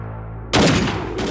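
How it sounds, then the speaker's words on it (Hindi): A gunshot rings out in a Hindi-dubbed action thriller, one sudden loud blast after a quiet hum, followed by a brief ringing tail and a second burst. "सर गोली चला दी।"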